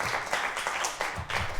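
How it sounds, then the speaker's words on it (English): A college speaker-series audience breaks into short applause, dense clapping with a few louder bursts, fairly close. "clap for that"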